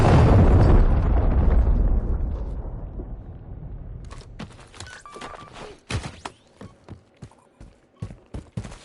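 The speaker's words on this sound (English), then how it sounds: "Hostiles launched a cruise missile." A cruise missile detonates in Call of Duty: Modern Warfare 3. A loud, close, booming blast rolls off over a few seconds, then scattered sharp cracks and thuds of debris or gunfire follow.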